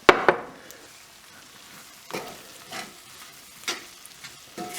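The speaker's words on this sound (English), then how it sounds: "we're going to add the spices that we've just measured out" Measured spices for chicken korma hit a pan over fairly low heat, sizzling in short bursts with stirring scrapes, starting with a sharp burst and then quieter intermittent frying.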